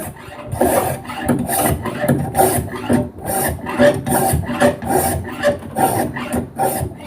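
Rhythmic, harsh rasping of a file drawn across the edge of a steel saw blade being made into a knife, about a dozen strokes at a steady pace, loud and close with no talking.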